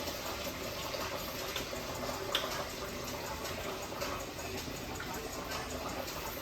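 A steady, soft stream of cooking oil pours into a pan holding sausages, making a faint continuous liquid rush and trickle with no talking.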